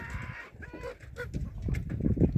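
Chickens cluck and fuss in a village yard, several birds close by with busy, overlapping calls and scratchy background noise, growing a little louder toward the end.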